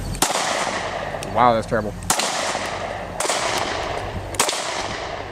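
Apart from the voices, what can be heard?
gunshots from a SCCY CPX-2 pistol, Federal 115 grain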